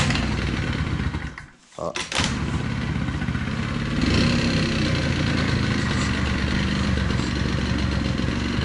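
An old motorbike left in a barn for 15 years, refueled and started, catching after a brief pause, then idling steadily with a loud, rough rumble close by; one person gives a short exclamation.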